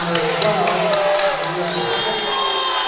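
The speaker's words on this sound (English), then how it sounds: "Nashville Christian fans clapping, USN fans screaming." Basketball fans in a boys' high school gym, USN against Nashville Christian, roar in a dense crowd wash of clapping, cheering and shrill screams that holds steady and close for about three seconds.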